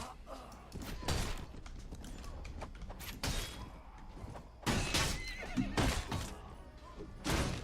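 A horse in the Perisno video game whinnies loudly several times amid galloping hoofbeats and dull thuds of fighting.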